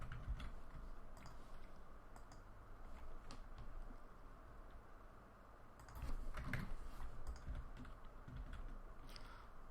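Code being typed on a computer keyboard, with steady close key clatter running throughout and a slightly busier burst of keystrokes near the end.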